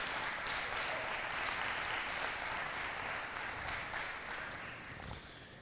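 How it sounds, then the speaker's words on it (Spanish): A church congregation at a family worship gathering claps together in a dense, steady applause that holds throughout and eases slightly toward the end. "Dele fuerte ese aplauso al Señor."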